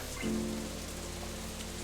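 Steady rain from the Katawa Shoujo visual novel, a soft continuous hiss of drops on a surface that holds an even level across the whole stretch, with no voices.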